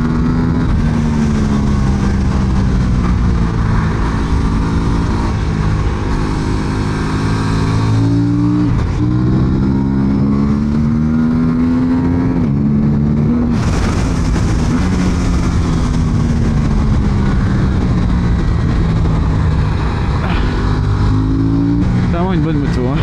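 Aprilia RS457 motorcycle ridden hard on a race circuit in Italy, its engine note climbing repeatedly through the revs with brief drops at gear changes, loud and close with constant wind rush.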